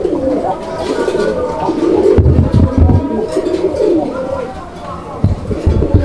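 Pigeons coo repeatedly at a crowded pigeon market in Bangladesh, their low throaty calls rolling on steadily and fairly close, with voices of traders and buyers talking underneath.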